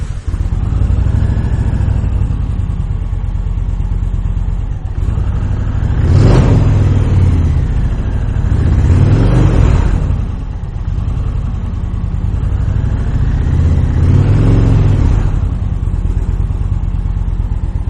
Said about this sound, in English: I am going to take the opportunity right now to go ahead and fire this bike up for you so you can hear that exhaust system.